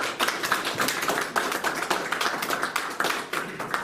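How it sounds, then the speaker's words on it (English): Audience applause for two candidates at an Ohio House district candidates forum, a steady crowd of clapping hands sustained for the whole stretch, dense and fairly close without any talking. "I wanted to just go ahead and give them a round of applause again"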